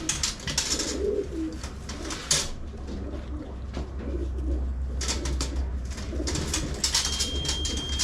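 Racing pigeons at a loft, with soft repeated cooing and bursts of rustling and wing flaps, plus occasional sharp knocks and rattles from the loft, close by and without talk.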